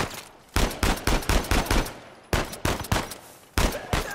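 Pistol gunfire in the Uncharted 4 video game, a loud close burst of rapid sharp shots in quick clusters separated by brief pauses, with no talking.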